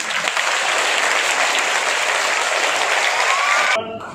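An audience claps steadily to welcome guests at a community event in Jamner, a dense sustained applause that runs loud and even before cutting off abruptly near the end, with no one talking.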